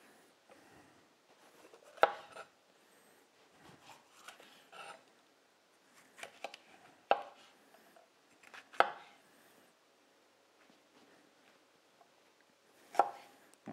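A knife chops two peppers on a board, sparse sharp cuts at uneven intervals with quiet gaps between, close and clear with no talk.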